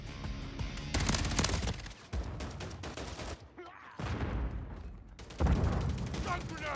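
Loud, dense automatic gunfire from Call of Duty Modern Warfare 3 multiplayer, rattling in sustained bursts with brief pauses between volleys, close and intense throughout.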